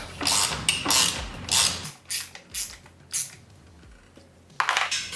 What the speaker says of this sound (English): Torque down the lock bolts on both sides.